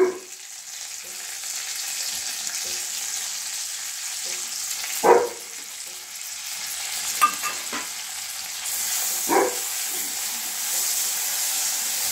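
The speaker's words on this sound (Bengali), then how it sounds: "কারি পাতাটা একটু নেড়ে চেড়ে নিচ্ছি, কড়াইয়ে সরিয়ে নিয়েছি, আর কারি পাতাটা এইভাবে ভেজে নিচ্ছি।" Curry leaves and vegetables frying in a kadai for upma, a constant close sizzle broken by a few sharp scrapes and clunks of the stirring spoon.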